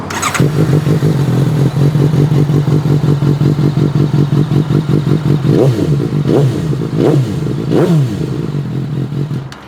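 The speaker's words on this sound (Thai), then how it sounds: "มาฟังเสียงท่อดีกว่า" A Suzuki GSX-S750 motorcycle idling with a loud, deep, rapid exhaust burble, then three sharp throttle blips rising and falling near the end, close and alone.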